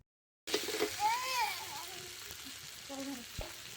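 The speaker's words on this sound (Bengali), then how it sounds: "আমি পটলটা ঢেলে দেব।" Pointed gourd (potol) pieces tipped into hot oily spice paste with tomato, sizzling and frying steadily while being stirred, with faint voices and light clatter over the sizzle.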